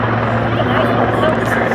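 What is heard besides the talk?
helicopter at airshow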